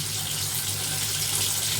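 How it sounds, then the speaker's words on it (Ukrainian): Tap water runs steadily into a basin being filled to wash a cat, a continuous close hiss and gush with no talking. "зараз трошки водички набереться"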